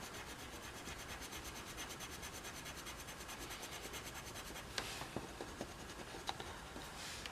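A pencil scratches across paper while drawing a Lego minifigure, a close, steady rasp of continuous shading strokes with a few light taps near the end.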